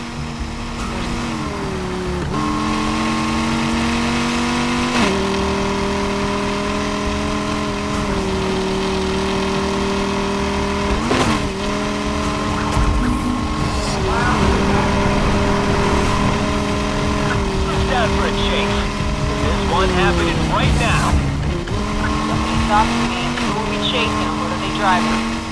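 A fully upgraded Ford GT races in NFS Heat, its engine droning loudly and continuously, with rising revs broken by repeated gear-shift dips and skids, while voices talk over the roar.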